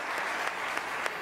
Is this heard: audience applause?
yes